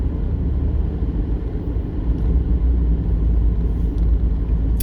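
A car drives along a snowy winter road at about 28 degrees near Funny River, Alaska, with a steady low rumble of engine and tire noise throughout, fairly loud and unbroken, with no talking.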